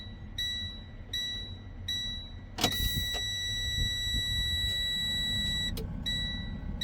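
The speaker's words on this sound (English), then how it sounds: "I don't know why it's beeping." Box truck warning beeper sounding in a cab, a repeated high electronic beep in regular pulses over a low engine rumble, with a brief clunk partway through.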